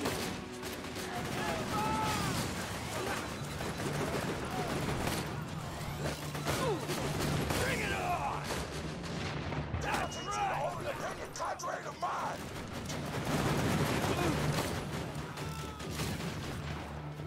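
Turret gunfire in the Borderlands 2 video game, a steady stream of rapid bursts and impacts rattling through a dense, loud battle mix, with game voices and effects layered over the shooting.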